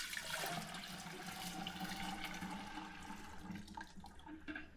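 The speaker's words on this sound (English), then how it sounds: "That is well mixed, and into the fermenter it goes." Blackberry honey mead must pours into a fermenter, a steady splashing, gurgling stream of liquid that runs continuously, close and fairly quiet, with no talking.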